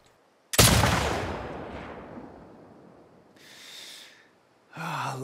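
A single loud gunshot in The Last of Us Part 2 video game, a sharp close blast with a long decaying echo, followed by a faint rustle and a short breathy sound.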